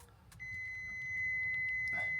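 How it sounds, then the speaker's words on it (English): A Toyota Prius door-open warning sounds as a steady, continuous electronic tone inside the car, constant pitch and fairly quiet, over a low rumble and faint clicks. "The beeping noise is because the door's open."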